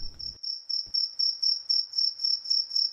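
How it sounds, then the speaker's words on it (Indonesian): A cricket chirps in steady, evenly spaced pulses, about four trills per second, clear and alone against near silence after a brief opening rumble. "Diam lu jangkrik."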